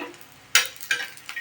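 Green chillies roast in a hot pan for thecha and are stirred three times. Each stir brings a short scraping sizzle, the first loudest and the next two quicker and softer, with faint crackle between them.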